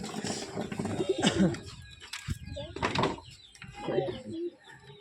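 Pigeons coo in bursts close by, soft throaty calls repeating amid a speaking voice.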